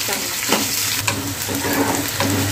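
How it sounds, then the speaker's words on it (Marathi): Sliced onion frying in hot oil in a pan, a steady close sizzle broken by a few scraping stirs of a spoon, with no talk. "कांद्याला पण छान असं ब्राऊन कलर येईपर्यंत आपल्याला त्या चांगलं तेलामध्ये भाजून घ्यायचं."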